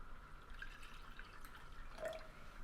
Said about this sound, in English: Let's pour a little bit in here